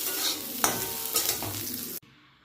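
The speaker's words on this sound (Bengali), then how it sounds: "আর এই যে এখানে কাজু কিশমিশ ভেজে নিচ্ছি" Cashews and raisins frying in ghee in a pan for pulao, a steady close sizzle with a few stirring clinks, cutting off abruptly near the end into quiet room noise.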